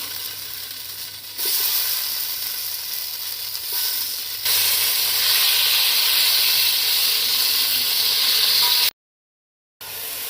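Tomatoes go into hot oil in a pan for chicken shashlik and sizzle loudly and steadily, the hiss swelling twice as more goes in, with a brief break near the end.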